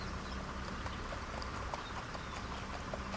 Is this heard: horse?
yes